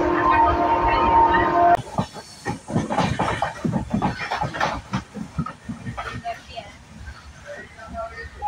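A passenger train bound for Mumbai runs along the Konkan line; a horn sounds briefly at first, then the carriage rumbles and rattles with steady clatter and hiss close by, with a few voices in the background.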